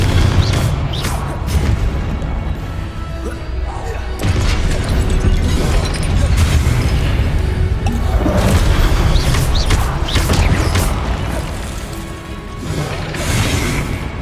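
The Confringo spell detonates in Hogwarts Legacy as a string of loud booming blasts and crashing impacts, close and heavy, mixed with rumbling game effects throughout.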